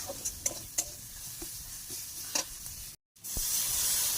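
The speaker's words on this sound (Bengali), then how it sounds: "এখানে আমি পেঁয়াজের মধ্যে হলুদ, মরিচ, লবণ সব কিছু দিয়ে দিয়েছি। এবার একটু ভাজবো।" Onions with turmeric, chili and salt frying in a pan for a Bengali fish curry, a steady close sizzle with a few stirring scrapes, a brief gap, then a louder hiss.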